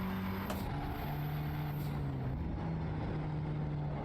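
A car engine in the racing game Assetto Corsa Evo, heard from the bonnet view, drones steadily at a moderate level with a low tonal hum that shifts slightly in pitch.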